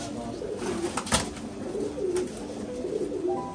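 Soft, low coos of Giribaj racing pigeons in a loft repeat over a steady background hum, with a brief rustle or flutter partway through.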